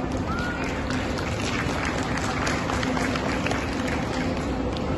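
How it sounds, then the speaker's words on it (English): Steady applause from an audience at a graduation ceremony, honoring teachers, a dense continuous wash of clapping at moderate distance that holds evenly throughout. "A round of applause to our teachers for their dedication and constant support."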